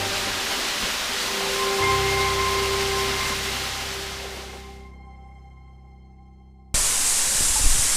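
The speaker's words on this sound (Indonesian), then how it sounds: "sekarang saya berada di aliran air terjun kedua yang berada di Desa Penimbung" The second waterfall at Desa Penimbung roars with a loud, steady rush of falling water. It eases slightly for a moment, then cuts back to full strength.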